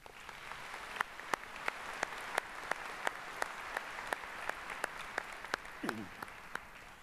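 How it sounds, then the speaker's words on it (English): A crowd at a university spring commencement ceremony applauds in a fairly faint, even patter of clapping, with sharper individual claps standing out at a loose, regular pace. "Please join me now in acknowledging them with your applause."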